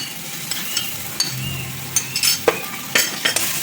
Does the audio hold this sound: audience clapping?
no